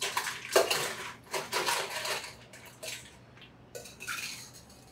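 Ice cubes rattle and clink into a metal cocktail shaker holding gin, a series of quick, bright clattering bursts at close range.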